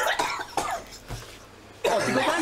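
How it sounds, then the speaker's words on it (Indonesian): A person coughs several times in short bursts, close and fairly loud, with a brief pause between them and a voice over the end. "Tiga kali dia batuk ni."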